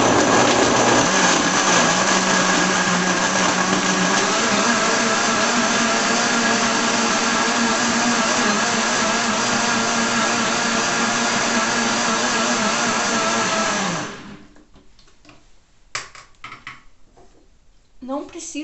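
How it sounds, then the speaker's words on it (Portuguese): Kitchen blender whirring loudly and steadily for about fourteen seconds while blending a lime drink with ice, then cutting off abruptly, leaving quiet clinks and faint handling noises. "Então eu vou fazer um pouco de barulho que eu vou bater aqui."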